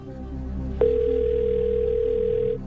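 Steady telephone dial tone on a call placed from a game show set, starting abruptly under a low background hum and holding loud and unbroken for nearly two seconds.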